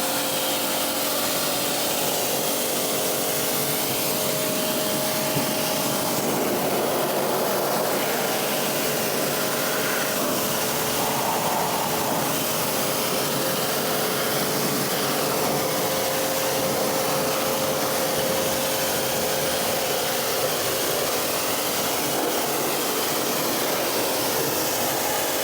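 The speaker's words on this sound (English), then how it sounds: "we're going to come along, rinse that off and just see how much dirt it's pulled off the wheel and tyre" Steady, close, unbroken hiss of a pressure washer spraying water to rinse cleaner off a car wheel and tyre, with no talk.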